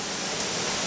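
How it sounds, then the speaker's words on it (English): Steady, full-bodied rush of falling water at one of the tiers of the seven-tiered waterfalls in Erawan National Park, continuous and close with no other sounds. "Erawan National Park, seven tiers of waterfalls."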